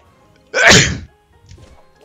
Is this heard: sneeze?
yes